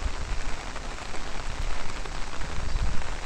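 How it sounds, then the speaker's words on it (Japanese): Heavy rain pours down at Nara Park, a dense, steady hiss of drops striking the ground and surfaces, loud and unbroken with no voices. "もう撮影どころじゃないね、これ。 この雨は。"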